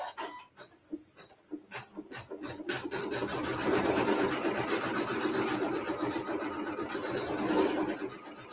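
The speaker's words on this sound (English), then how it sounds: "we are going to sew the decorative stitch" A sewing machine stitches a decorative pattern on quilt fabric, starting with a few short stop-start pulses, then running in a steady close whirring rattle for several seconds.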